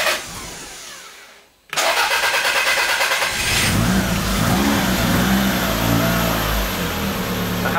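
A Toyota Celica ST205 GT4 with a BEAMS turbo engine cranks briefly, falls silent, then catches and fires up into a loud, steady running roar close by, with no talk over it.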